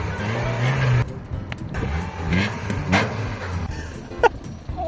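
A Pride car's engine revs under load, a low rumbling drone that rises and falls over several seconds with scattered clatter and brief bumps alongside it.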